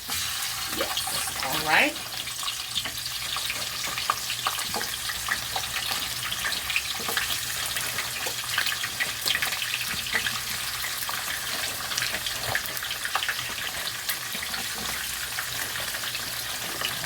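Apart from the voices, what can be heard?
fries frying in oil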